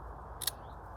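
String for a raspberry trellis built from pallets is cut with one short, crisp snip that stands alone against a quiet outdoor background.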